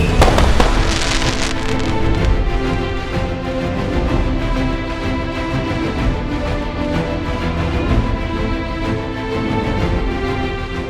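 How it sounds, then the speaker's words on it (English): Dense fireworks crackle and pop continuously, a sustained barrage of bursts with a sharp flurry at the start, loud and steady throughout. "pan up to the sky before the fireworks shoot"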